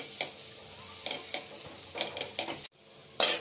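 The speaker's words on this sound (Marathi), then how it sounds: "परतून घेऊया, पण मंद आचेवरच परता. खजूर छान मी परतून घेते." Dates being sautéed in a pan over a low flame, with a gentle sizzle and repeated scraping stirs of a spoon against the pan, close and soft, no talking.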